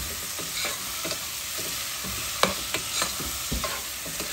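Large-cut chopped onions fry in a pan for an egg kuzhambu, with a steady close sizzle broken by repeated scraping stirs.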